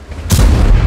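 Tank main gun firing in World of Tanks, from an AMX 30 medium tank, a single loud booming shot with a sharp onset followed by a heavy rumbling tail.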